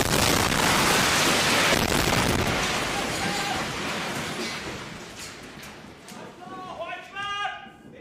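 A missile strikes the state broadcaster building: a dense, roaring wash of blast noise and falling debris dominates, then slowly fades into scattered crackles and shouting voices.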